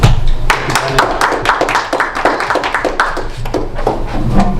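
An audience applauds a Table Topics speaker at a Toastmasters meeting with dense, steady clapping from many hands, loud and close, lasting several seconds.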